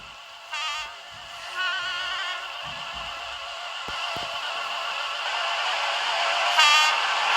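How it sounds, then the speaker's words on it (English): An electric Class 321 train rolls past in a Roblox railway game, a steady synthetic rumble with repeated horn-like tones near the start, in the middle and again near the end. "We have a Class 321 about to pass."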